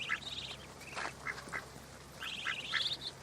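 Several ducks quack in short bursts, fairly close, with bright repeated calls clustered at the start and again near the end over a quiet outdoor background.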